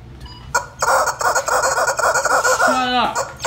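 Clucking and squawking chicken from an animated feature, close and loud, a rapid run of harsh clucks ending in a rising squawk, with no talk over it.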